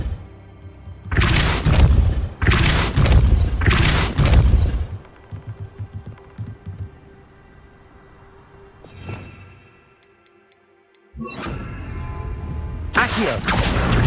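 The Depulso force spell in Hogwarts Legacy fires in several heavy, booming blasts close together, then an object shifts with rumbling, and a final burst of loud magical impacts follows a quiet stretch.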